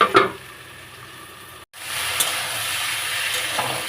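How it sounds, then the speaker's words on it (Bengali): Taro pieces sizzling with prawns and green chillies in a hot pan, a steady close hiss and crackle of frying with a brief stirring scrape and a short gap, no talk. "এই যে কষা চলছে আর একটু কষবো ভাজা ভাজা করবো"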